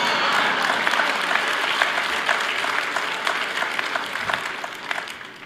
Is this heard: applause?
yes